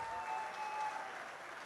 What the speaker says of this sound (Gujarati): તો એ બધા વોલેન્ટિયર્સ માટે મને જોરદાર તાળીઓ જોઈએ